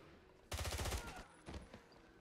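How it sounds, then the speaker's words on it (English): Rapid machine gun fire in the James Bond 007 Blood Stone video game, a sustained burst of close, loud shots followed by a shorter second burst. "Wait, how did I get a machine gun?"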